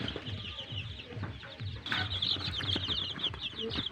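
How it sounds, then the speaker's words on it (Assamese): A week-old brood of local village chicken chicks chirps in quick, high, overlapping peeps, with a burst of fluttering wings partway through, all close and fairly quiet. "এইটো মোৰ লোকেল মুৰ্গীৰ পোৱালি হয়।"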